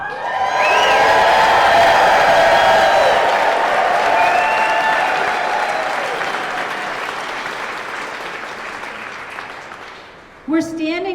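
A large outdoor crowd at a Montana rally for public lands applauds and cheers loudly, dense clapping with whoops swelling early then slowly fading over several seconds before a brief final burst.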